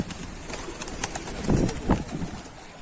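Soft pigeon coos repeat a few times nearby, low and throaty, over faint background noise and occasional higher clicks.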